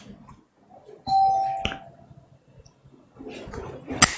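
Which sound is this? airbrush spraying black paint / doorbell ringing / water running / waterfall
doorbell ringing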